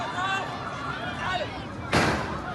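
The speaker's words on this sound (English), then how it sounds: "There are gunshots." Gunfire breaks out over a crowd scrambling for airdropped aid in Gaza, one sharp bang near the end standing out above a dense din of crowd noise and shouting voices.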